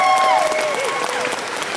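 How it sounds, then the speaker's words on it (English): Crowd at an anime convention opening ceremony breaking into applause with scattered cheers, dense clapping throughout as a voice trails off at the start. "I want you guys to give yourselves a round of applause."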